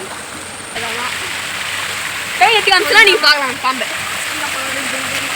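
Water rushes steadily along a stream by a village lake, a constant hiss and splash heard close by, while a person speaks briefly over it partway through.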